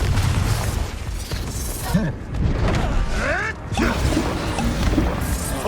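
Confringo spell explosions in Hogwarts Legacy: repeated loud booms and crashing impacts across the span, with whooshing, sweeping magic tones between them and brief voiced exclamations in the mix.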